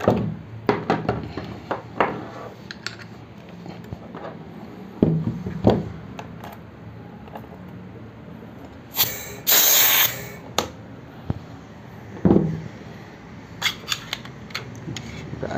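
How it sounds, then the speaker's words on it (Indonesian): An air nailer powered by an Artix 3/4 HP DA 0709 compressor fires nails in a series of sharp, close snaps, with a brief burst of hissing air midway. "Berikutnya saya akan mencoba dengan paku air nailer."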